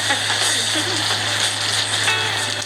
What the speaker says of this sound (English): You fry the seed.